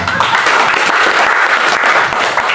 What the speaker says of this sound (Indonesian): Tepuk tangan lebih keras.